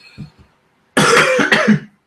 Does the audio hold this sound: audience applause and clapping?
no